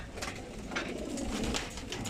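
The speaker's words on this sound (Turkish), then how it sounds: "Vallahi çok güzel kuşlar arkadaşlar" Flying pigeons coo softly in a low, murmuring chorus, a steady layered burble with no one speaking.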